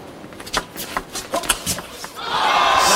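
The crowd at a table tennis match between Dimitrij Ovtcharov and Fan Zhendong is quiet while the ball makes a few sharp knocks, then swells into a loud, sustained roar of cheering.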